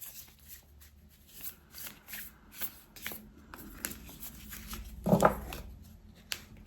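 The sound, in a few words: shuffling tarot cards before drawing one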